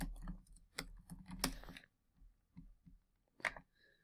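Typing on a computer keyboard during a web search, with scattered quick key clicks and short bursts separated by pauses, close and fairly quiet.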